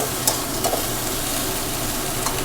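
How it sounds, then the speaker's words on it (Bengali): Eggplant frying in oil for a katla fish-oil chorchori, a dense even sizzle with a few light stirring scrapes, close up and with no voices. "একটু নরম হয়ে যাওয়া পর্যন্ত একটু নাড়াচাড়া করে নিতে হবে।"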